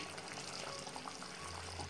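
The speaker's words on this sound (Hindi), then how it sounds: "पानी डालने के बाद अब इसे एक उबाल आ चुका है" Chicken mughlai curry bubbling at a steady boil in a pot after water has been added, giving a continuous dense simmering hiss with no voices.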